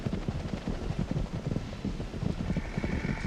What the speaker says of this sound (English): A Judas horse is released just ahead of the fleeing wild horses.